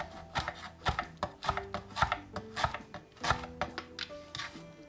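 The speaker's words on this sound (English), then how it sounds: "Gather that up into a nice little bundle and give that a good chop." A knife chops a small bundle of fresh herbs on a board, a quick run of sharp, evenly spaced taps close by, with no talking.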